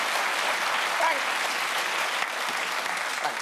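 A studio audience at a comedy panel show breaks into dense, sustained applause, an even wash of many hands clapping throughout with a faint voice barely showing beneath it.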